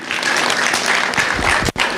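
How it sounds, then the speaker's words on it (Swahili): A crowd at a county governor's youth programme launch breaks into applause for the governor, a dense, steady clapping close by that dips briefly near the end. "So tupigie Bwana Governor makofi."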